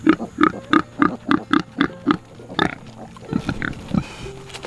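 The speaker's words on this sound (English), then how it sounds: "They're starting to oink and grunt a little bit." Young piglets on a homestead let out a quick string of about nine evenly spaced, close grunts, followed by scattered softer oinks and snuffles.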